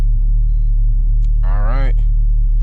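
A tuned 600hp Honda Civic Si pulls in third gear, its engine a steady deep drone that fills the cabin, with a brief voice rising over it midway.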